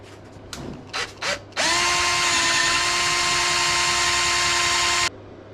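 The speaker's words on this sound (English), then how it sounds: "Use a big one, drill the head off, and then we can see what we're working with." A power drill is used to drill out a rounded bolt on a vintage Ariel motorcycle. A few short bursts come first, then a loud, steady whine runs for about three and a half seconds before stopping.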